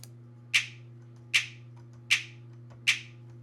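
A finger-snap sample in a beat-making session in Studio One 3 repeats four times at an even, steady pace, crisp and alone over a faint low hum.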